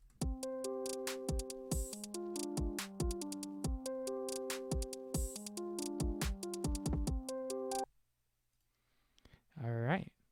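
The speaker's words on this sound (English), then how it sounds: "So we have my kick pattern now," Repeating electronic beat in FL Studio with punchy kick drum hits in a steady looped rhythm, stopping abruptly, followed by silence and a short rising tone.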